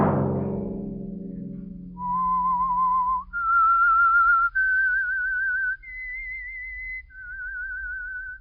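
A lone person whistles a slow, eerie melody for The Whistler radio show, clear sustained notes stepping up and down in pitch after a fading low musical chord, close and alone.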